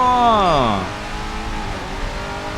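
A Bugatti Centodieci in the Racing Master racing game roars at full throttle, a loud rising engine whine with shifting harmonics that drops into a steadier drone after a gear change.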